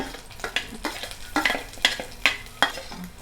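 Green chillies, ginger and onion stirred in a little hot oil in a clay pot: loud, rhythmic scraping strokes about every half second over a crackling sizzle, no voices.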